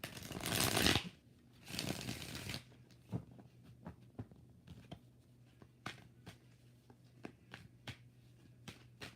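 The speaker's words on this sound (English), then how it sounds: "Last shuffle." Tarot cards are shuffled by hand, starting with two loud riffling bursts, then a string of soft, irregular taps and slides as the cards settle, close and quiet.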